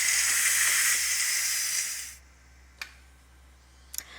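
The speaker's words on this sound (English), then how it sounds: "When 10 minutes is up, we'll do release the rest of the pressure." A Ninja Foodi or Instant Pot pressure cooker holding vegetable beef soup vents steam in a loud, close, steady hiss that cuts off abruptly after about two seconds, followed by near silence and a couple of small clicks.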